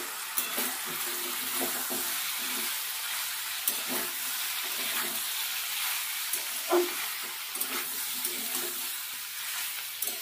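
Bottle gourd greens cook in a pan with a soft, steady sizzle, punctuated by light clinks and scrapes as the vegetables are stirred; fairly quiet and close.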